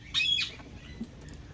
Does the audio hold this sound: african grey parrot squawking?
yes